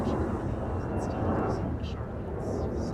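Faint, distant roar of an airplane arriving on a runway at Minneapolis–Saint Paul airport, a steady broadband rumble with no clear peaks.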